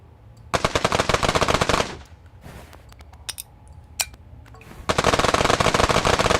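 Rapid bursts of automatic gunfire from a gun in the pixel-art game Untitled Pixel Simulator, loud and dense for about a second and a half, then scattered lighter shots, then another sustained rattling burst to the end.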